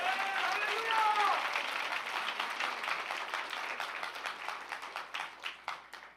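A church congregation at a joint Christmas service applauds, a fairly faint wash of clapping that thins out toward the end, with a voice briefly heard at the start.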